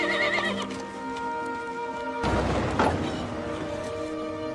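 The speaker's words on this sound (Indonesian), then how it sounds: "langsung menaiki kuda favorit pilihannya" A horse neighs loudly in a stable, a long wavering whinny followed by a sudden crash-like burst of noise and hoof clatter, with the neighing continuing over it; no speech.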